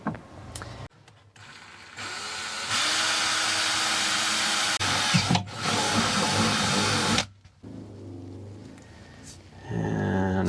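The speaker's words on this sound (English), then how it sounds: "So I need to drill a hole." A power drill bores a hole in a cargo trailer during a water install, whining in two sustained bursts of a few seconds each, separated by short pauses and followed by quieter handling noise.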